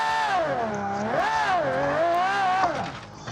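A car drifting in a racing video game, engine droning and rising and falling in pitch while tires squeal, loud and continuous throughout with no voices.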